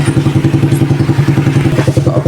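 A Suzuki Shooter 115 FI motorcycle engine idles during a tune-up after its throttle body mixture was adjusted, giving a rapid, even stream of close, loud putting thumps with no voices.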